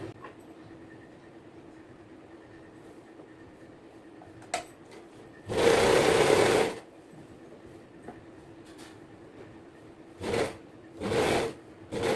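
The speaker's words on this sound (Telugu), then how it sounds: "ఇలా ఫోల్డ్ చేస్తూ స్టిచ్ చేసుకోవడమే అండి." A sewing machine stitches folded fabric of a nightsuit in three short whirring runs, the first longest, with quiet handling clicks in between.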